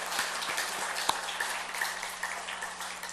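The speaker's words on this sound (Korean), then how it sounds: "우리 목자, 목녀들, 우리 한번 박수 한번 보내십시다." A church congregation claps steadily at a moderate distance, a soft, even patter of many hands with a few sharper individual claps, continuing throughout with no talking.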